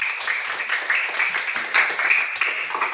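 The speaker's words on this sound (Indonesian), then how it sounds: "semangatnya, tepuk tangannya." A school class claps their hands together in a classroom, a dense, continuous patter of many small hands at steady volume for about three seconds, fairly loud and close.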